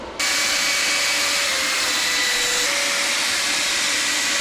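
A wire brush cleaning the welded axle tubes of a Ford 8.8 rear end, which begins abruptly as a loud, steady, harsh whirring roar and keeps going without a break.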